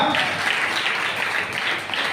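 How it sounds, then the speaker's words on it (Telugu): A congregation at a church sermon breaks into loud, dense applause that fills the whole two seconds, close and continuous. "చప్పట్లు గట్టిగా"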